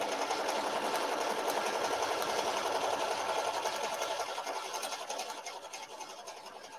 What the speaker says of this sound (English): now I'm going to hit start. And now this is the tack down stitch.